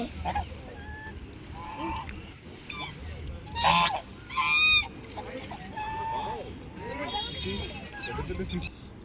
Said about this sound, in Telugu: బాతులు స్విమ్మింగ్ చేస్తున్నాయి